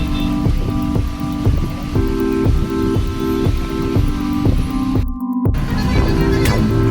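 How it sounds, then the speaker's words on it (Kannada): Steady rain patters down onto surfaces, a dense constant hiss. A droning engine hum with rhythmic pulses runs underneath. "ಇವಾಗ ನೋಡಿದ್ರೆ ಮಳೆ ಬರ್ತಿದೆ"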